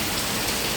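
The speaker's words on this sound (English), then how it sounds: "it's been raining from morning" Heavy rain pouring down in Kingston, Jamaica, a dense unbroken hiss of falling water and drops striking surfaces, loud and steady, with no talking.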